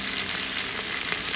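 Ginger garlic paste sizzles in a one-pot mutton curry, a close, dense, steady frying hiss with faint stirring and no talk.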